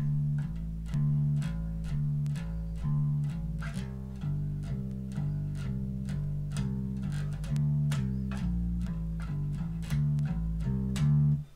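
A bass guitar plays a bouncy intro line, plucked repeated low notes in a steady two-beat country rhythm, clear and alone.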